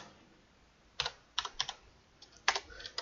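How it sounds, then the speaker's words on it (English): Light clicks of typing on a computer keyboard, a few short bursts of keystrokes with pauses between them, close and quiet against a faint background hiss. "Simply just by typing the name bike repair,"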